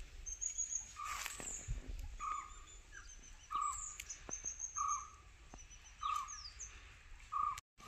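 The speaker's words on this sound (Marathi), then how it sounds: "मित्रांनो तुम्हाला पाहू शकता पक्ष्याचा आवाज येत असेल आता" Birds call in a forest with tall trees, giving repeated short chirps and whistled notes at moderate distance, spaced irregularly over a soft background hush.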